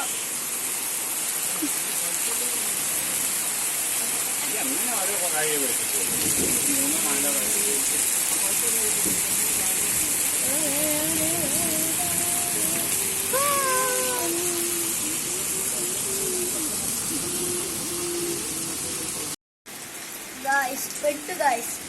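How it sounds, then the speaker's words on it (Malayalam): Heavy rain pours down in a dense, continuous roar, with a person talking underneath it for most of the time. "നമ്മൾ പെട്ട് ഗായ്സ് പെരുമഴ"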